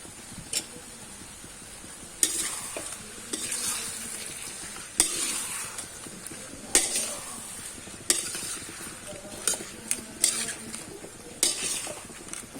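Garlic sautéing in a hot pan for buttered shrimp, a steady sizzle and frying crackle running throughout with repeated sharp scrapes and stirring clinks of a utensil against the pan at irregular intervals.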